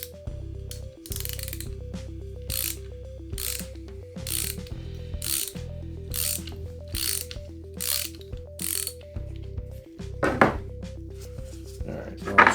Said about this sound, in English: hold the wrench up to the actual cutters. Make sure that this is in the left position, so it's going to loosen it.